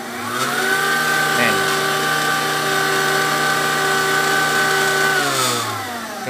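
Hanabishi 800 W stand mixer motor switching on and spinning up, a steady mid-pitched whine held evenly for several seconds before winding down, with a brief spoken word near the start.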